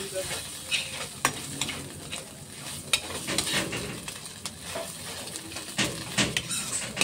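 Spice masala with ground black pepper is sautéed and stirred in a pan for a fish chop mixture, producing a steady close sizzle with frequent clinks and scrapes of a spatula against the pan.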